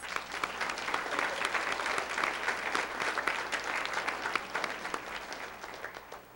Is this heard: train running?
no